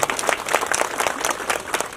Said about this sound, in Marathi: एकदा त्यांच्यासाठी टाळ्या वाजूया आणि जोरात घोषणा देऊया